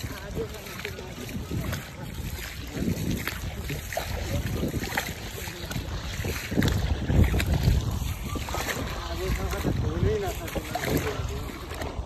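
Chisang river in Nepal rushing past with waves breaking, as a steady churning roar buffeted by wind, with voices talking over the water throughout.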